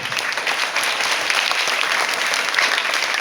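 A group of meeting attendees in India clapping for themselves, dense steady applause at close range filling the whole short stretch with no talking.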